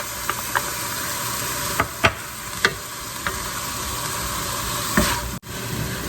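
Diced tomatoes hit a hot pan of onions and garlic for a chicken chili, giving a steady sizzle broken by several sharp knocks and scrapes of a spoon against the pan.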